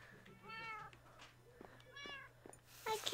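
Several short, bright meows from a cat in the Minecraft video game, spaced across a few seconds over a quiet low hum, with a brief burst of other game noise at the end.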